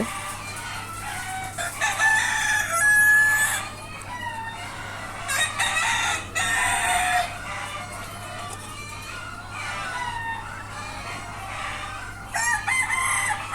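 A rooster crows several times, loud and close, while hens cluck intermittently in the background on a small farm of about 38 native (deshi) chickens.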